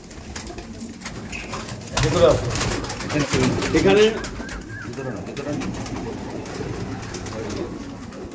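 A loft of forty to fifty pigeons coos in a steady, overlapping chorus of low throaty calls nearby, while someone speaks briefly over them.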